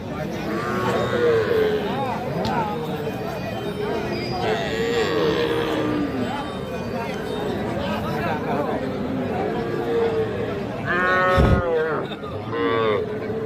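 Cattle low repeatedly at a calf market where small bulls and heifer calves are sold, the moos rising over steady crowd chatter and nearby people talking throughout.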